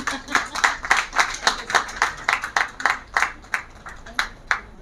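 Steady, rhythmic clapping from a small group at an International Women's Day awards ceremony, about three or four sharp claps per second held evenly for several seconds, fairly close, with faint voices murmuring underneath.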